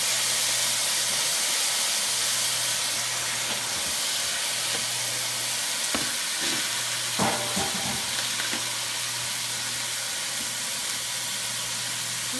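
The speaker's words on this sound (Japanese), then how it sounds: "ごま油を敷いて、アク抜きをしておいたごぼうを炒めていきます" Burdock root, soaked beforehand to draw out bitterness, stir-fries in hot sesame oil, giving a steady, close sizzle that runs the whole time, with a few light clatters of stirring partway through.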